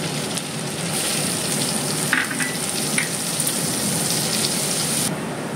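Onions fry in hot oil with cardamom, a steady, close hiss, broken by a few light clicks of stirring.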